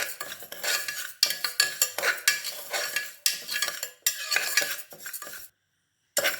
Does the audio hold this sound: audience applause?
no